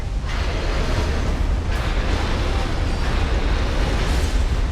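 The Smelter Demon's fire blast attack in Dark Souls 2 on PC: a loud, sustained roaring rush of flame with surging bursts near the start and again partway through, dense and close, with no voices.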